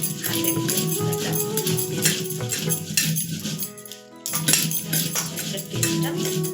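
Ginger is ground by hand on a stone slab for chicken khichuri masala: a steady rhythmic scraping and rubbing that breaks off briefly midway, then resumes over a faint background hum.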